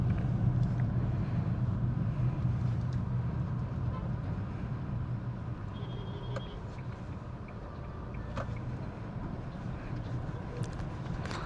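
A Renault Triber 1.0 manual car drives and gathers speed smoothly, its steady engine and road rumble filling the cabin at a constant, moderate level with no talk.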